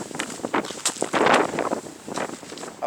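Strong gusting wind in the Arizona desert buffets the microphone with a constant rushing roar, rising to a heavier gust midway, with no voices.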